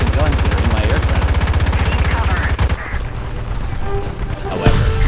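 An aircraft's machine guns fire in War Thunder Mobile, a loud rapid continuous burst lasting nearly three seconds, followed by rumbling engine and explosion noise, with game sounds dense and close throughout.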